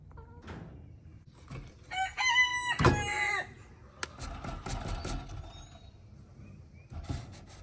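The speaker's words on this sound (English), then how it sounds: "Chickens!" Chickens cluck around a coop while a rooster lets out a loud, close crow, followed by scattered clucks and squawks of varying loudness.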